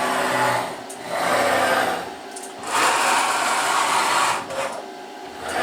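CNC router spindle and axis motors whirring while touching off to measure tool length, a loud continuous machine drone that swells and dips in several waves as the axes move; no talking.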